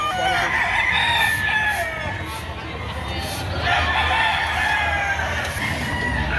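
Several chickens cluck and crow at a livestock market over a busy, noisy background of distant voices and crowd murmur, with overlapping calls throughout.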